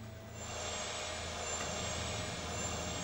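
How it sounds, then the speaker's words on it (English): Airliner jet engines at reduced power, captured on a flight recorder: a continuous steady roar with a constant high whine and low hum, muffled and unchanging throughout, no voices. "Those engines sure ain't at full power."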